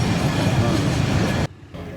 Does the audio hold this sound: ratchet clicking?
no